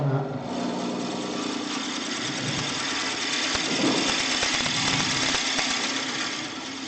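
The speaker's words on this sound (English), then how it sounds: "Just take the speed down the least wee bit for drilling that." A steady mechanical whir of a lathe running, with a continuous hum and some grinding clatter from the drilling.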